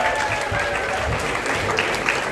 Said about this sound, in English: give them a big round of applause for playing this game